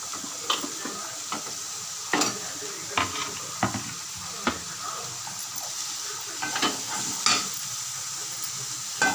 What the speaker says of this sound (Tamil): கிண்டி விட்டுக்கோங்க.